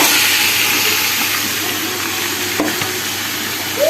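Loud, steady sizzling as marinated meat fries in hot oil, with a brief clatter of stirring near the end.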